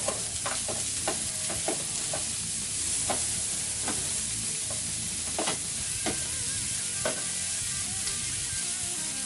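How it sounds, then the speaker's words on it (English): Onions and peppers sizzle steadily on a hot grill for fried rice, a dense continuous frying hiss broken by scattered sharp pops and crackles, close and alone with no talk. "get the onions and peppers on the grill, get them sweated down a little bit"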